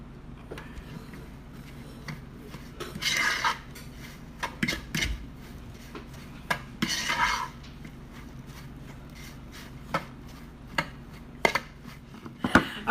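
A spoon scrapes and clinks against a pot as chili seasoning is mixed in, irregular bursts of stirring and sharp knocks, close by with no talking.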